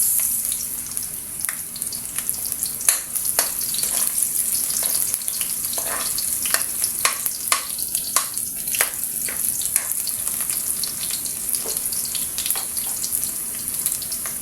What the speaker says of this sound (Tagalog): Naglagay na ako ng mantika. Lagay natin yung bawang. Natin yung sibuyas.